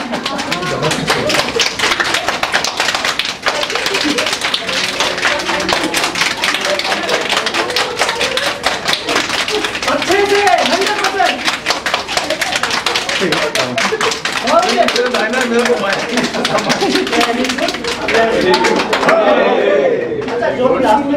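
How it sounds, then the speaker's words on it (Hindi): A group claps hands during a laughter yoga session, producing fast, continuous, crowded claps that carry on for the whole stretch, loud and near, with people talking and calling out over them. "बहुत तेज बजा. ताली बजा."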